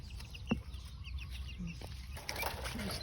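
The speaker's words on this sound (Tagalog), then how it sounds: "Mga mabait na manok." Backyard chickens cluck softly and intermittently at close range in a quiet countryside setting, with a few short clucks standing out over low ambient noise.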